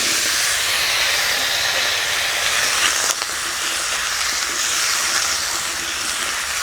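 Cumin seeds, a dried red chilli and a bay leaf sizzle in hot mustard oil, a steady loud crackling hiss that runs on without a break and with no voice over it.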